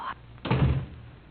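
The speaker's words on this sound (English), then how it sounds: "Close the door." A door is shut in a domestic drama, giving one dull thunk midway through the clip against quiet room tone.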